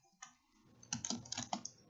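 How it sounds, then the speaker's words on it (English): Rapid, uneven computer keyboard typing close by, a burst of clicky keystrokes in quick succession with no voices. "Next, I am typing ggplot"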